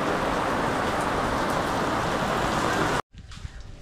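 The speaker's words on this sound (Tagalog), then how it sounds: "Papalipas natin yung ulan." Steady, loud rain pours down in a continuous broadband hiss that fills the first three seconds, then cuts off abruptly, leaving a quieter background.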